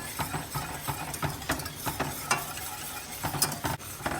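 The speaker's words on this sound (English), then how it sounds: "you melt it and gradually add some flour to make a roux" Flour being stirred into melted butter in a pan over medium heat for a roux, with steady scraping stir strokes and a soft sizzle throughout, close and moderately loud, no talking.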